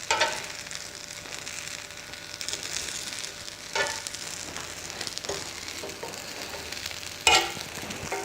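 Food sizzles steadily in a hot pan at an outdoor cooking demonstration, a continuous crackling fry punctuated by a few louder stirring or scraping moments, with no talk.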